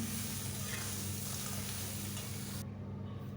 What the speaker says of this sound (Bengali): দেখতে পাচ্ছ কাঁকড়াটা ভাজা হয়ে গেছে আমার।